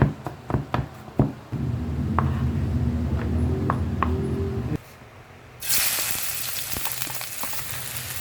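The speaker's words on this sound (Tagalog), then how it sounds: "Igisa na natin ang bawang" Garlic sautéing in a pan, first a few sharp clinks of utensils, then a steady sizzle that briefly drops away before a louder, brighter hiss of frying bursts up.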